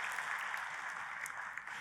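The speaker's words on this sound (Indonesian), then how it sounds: "Tepuk tangannya pula yang paling meriah buat Tuhan kita." Church congregation applauding together, a dense steady patter of many hands clapping, fairly loud and unbroken throughout.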